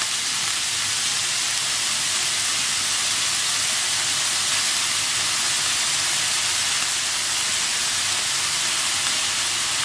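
Ground red masala hitting fried prawns in a hot pan, a loud, steady, broad sizzle and hiss that holds without a break from start to finish, with no voices.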